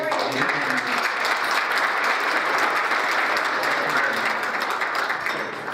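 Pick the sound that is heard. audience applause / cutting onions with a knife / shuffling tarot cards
audience applause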